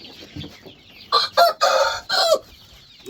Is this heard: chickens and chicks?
yes